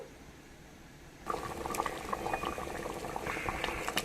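A pot of Mangalore-style Kalluru fish curry comes to a boil after a quiet start, then bubbles and pops steadily up close with a busy, rising burble.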